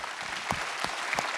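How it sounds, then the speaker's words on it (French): Applause from an audience at a town New Year's greetings event honoring its organizers, steady clapping from a crowd with a few sharper claps standing out, no speech over it. "je vous propose de les applaudir"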